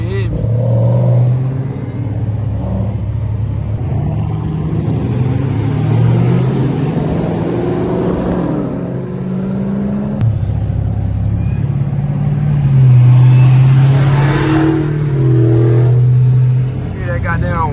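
A Dodge Hellcat's supercharged engine rumbles and revs at a street takeover, its throaty roar swelling and easing over nearly eighteen seconds beneath loud, close talk.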